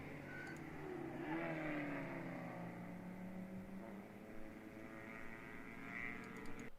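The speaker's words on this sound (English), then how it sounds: "so I can hear all the nice car noise" Endurance race cars circling a damp track at a ChampCar event at Carolina Grand Prix, their engines droning and swelling from a distance as cars pass, a continuous overlapping roar with no voices.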